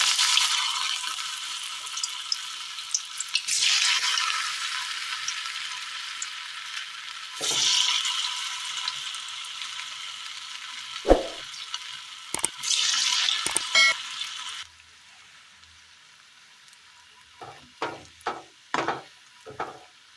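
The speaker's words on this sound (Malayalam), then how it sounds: "എണ്ണ നന്നായി ചൂടായി കിട്ടിയിട്ടുണ്ട്. ഇതിലേക്ക് ഒരല്പമായിട്ട് കുറച്ച് കോരിയിട്ട് കൊടുക്കാം." Small spoonfuls of snack batter frying in a shallow layer of hot oil for a Kerala tea-time snack: a steady, close sizzle with bursts of bubbling and several short scraping stirs near the end.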